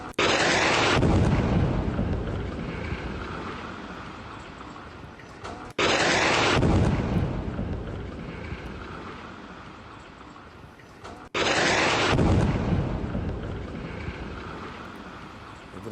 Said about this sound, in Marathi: सोशल मीडियावर व्हायरल झालेला फुटेज क्षेपणास्त्र इमारतीला धडकताना आणि त्यानंतर मोठा स्फोट होऊन काळा धूर आकाशात पसरताना दिसतोय